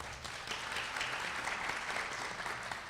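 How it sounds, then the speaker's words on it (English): Audience at a Harris County domestic violence awareness event applauding for a lieutenant, a steady wash of many hands clapping at moderate distance, sustained for a few seconds without voices. "A big round of applause for Lieutenant Julie Pleasant"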